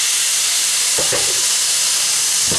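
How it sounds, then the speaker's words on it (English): Steady, bright sizzling of beef stewing steak frying in a hot pan, a continuous loud hiss with a few brief bumps of stirring. "I'm just going to continue to keep frying this beef stewing steak"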